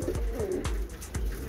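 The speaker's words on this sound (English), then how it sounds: "I've got these 2 homing pigeons" Two homing pigeons cooing close by, several soft low coos repeating in a loose rhythm with no talk.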